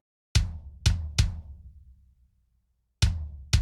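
An unprocessed black metal kick drum plays alone: three boomy, thuddy hits in a quick cluster with a lingering low decay, a gap, then two more strikes.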